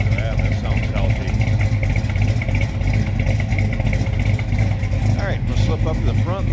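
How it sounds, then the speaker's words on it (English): The 360 V8 of a 1970 Dodge Dart Swinger runs with a deep, steady idle burble close by. A voice talks over it throughout. "Good sounding 360."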